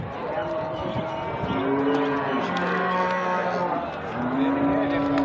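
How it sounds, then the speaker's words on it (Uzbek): Cattle lowing at a farm: several long, loud moos follow one after another, close by, with no speech over them. "Mana sigirchamiz."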